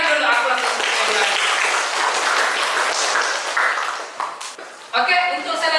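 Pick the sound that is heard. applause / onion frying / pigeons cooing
applause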